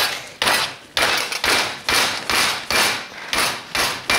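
A fresh whole artichoke is turned upside down and banged hard on a counter to loosen its tight leaves, producing nine loud, evenly spaced thumps, close and roughly every half second, with no talk over them.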